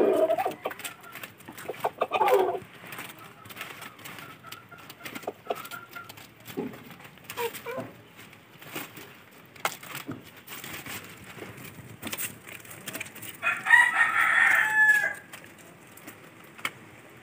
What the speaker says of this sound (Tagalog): papakain natin dito sa aking mga manok. Rhode Island.